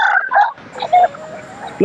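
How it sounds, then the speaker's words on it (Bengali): Fighting roosters at a rural village haat make short crowing and clucking calls close by, followed by a quieter stretch of market background. "সব লড়াই করার মুরগি"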